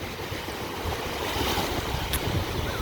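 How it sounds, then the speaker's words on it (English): Ocean waves wash onto a beach in a steady, continuous rush of surf, with wind buffeting the microphone throughout and no voices. "Listen to the sound of this water."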